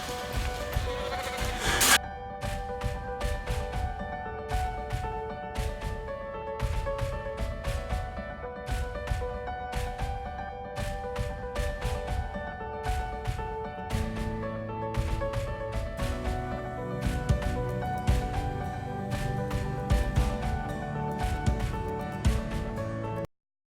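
Goats and sheep bleat repeatedly while being fed bell peppers in a farm pen, overlapping calls at close range over rustling and background noise, with no talking.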